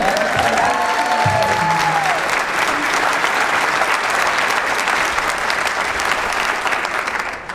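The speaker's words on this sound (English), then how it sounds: "I think we need to give Jimmy Behrman another round of applause." Sustained applause for Jimmy Behrman from a town hall crowd, a steady roar of clapping throughout with a brief voice or tone near the start.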